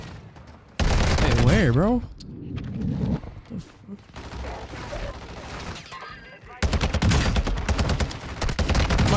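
Loud automatic gunfire bursts in Warzone 2 on Ashika Island as a decoy gets shot at, heavy rapid volleys opening and closing the stretch, with players talking in the quieter middle.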